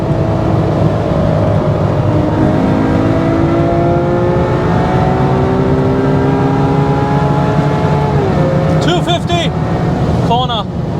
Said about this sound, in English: at 240 in a corner, this car is cornering so well